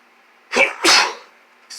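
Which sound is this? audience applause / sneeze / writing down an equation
sneeze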